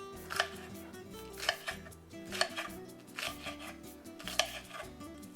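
A knife chops vegetables on a cutting board for a pork chop and zucchini dish, making a few crisp, separate thuds spaced about a second apart against quiet background music.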